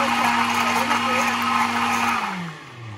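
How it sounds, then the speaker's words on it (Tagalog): A kitchen blender whirs loud and steady while mixing ingredients for a chocolate cake, holding a constant motor pitch before winding down near the end. "Paandarin ko na yung blender natin ha."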